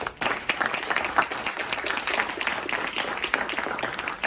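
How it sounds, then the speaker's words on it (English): Audience applause for the speakers at the close of a talk on India's economy, a dense steady patter of many hands clapping throughout, fairly close and sustained. "Let's give our speakers a round of applause."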